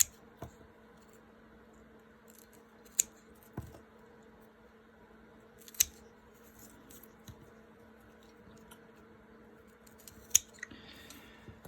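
A plant rhizome cut into half-inch pieces, sparse sharp snipping clicks spaced a few seconds apart, close and quiet, with no talk.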